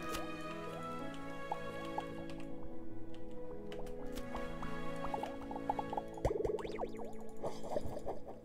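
Water drips underground in the video game Starbound, scattered plinks and squishy drops falling at irregular intervals over a faint ambient bed, growing busier toward the end.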